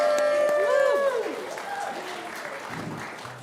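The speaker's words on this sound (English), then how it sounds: "can we clap for these guys?" A congregation at a Friday night Shabbat service applauds for bar mitzvah boys, sustained clapping mixed with crowd voices and a cheer, the applause gradually thinning out.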